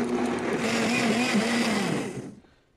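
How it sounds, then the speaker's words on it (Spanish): An electric blender whirs loudly at a steady pitch while puréeing chipotle chiles in liquid, running for a couple of seconds before spinning down and cutting off. "vamos a licuarlo por 1 minuto"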